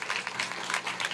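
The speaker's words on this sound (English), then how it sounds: "let's give a round of applause" A crowd at a building-trades career center grand opening breaks into applause, a brief, bright burst of many hands clapping at close range, with no voices over it.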